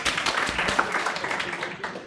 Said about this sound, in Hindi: एक बार ताली बजाओ यार